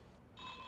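A telephone in The X-Files PS1 video game starts ringing with a thin, steady electronic trill. It is faint and very brief, rising out of a low background hiss.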